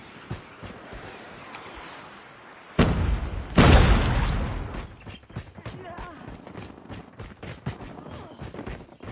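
Frag grenade blast in the Call of Duty Mobile shooter: a sudden loud burst near three seconds, then a heavier booming explosion with a long rumbling tail, followed by scattered smaller pops and game sounds.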